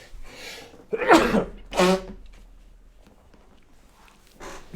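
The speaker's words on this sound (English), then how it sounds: "I'm having difficulty because I don't want to sneeze." A single sharp sneeze, with a quick intake of breath before it and a second burst after, close and loud, then quiet.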